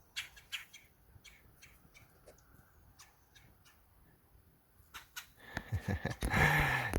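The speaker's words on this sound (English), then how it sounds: "Little red-headed woodpecker." Red-headed woodpecker calling in a local wildlife preserve, several short sharp calls scattered through the first seconds, then louder, harsher bursts near the end over light background rustle.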